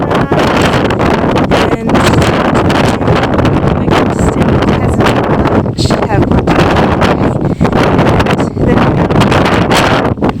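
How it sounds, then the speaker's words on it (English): Strong wind gusts buffet the microphone outdoors on the Larapinta Trail, a loud continuous roar with rustling bursts throughout, and a voice speaks briefly under it. "Windy."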